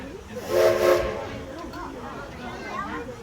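The Edison steam locomotive of the Greenfield Village Railroad sounds a loud, steady whistle for about half a second over a hissing steam background, followed by a fainter rumble and a distant voice.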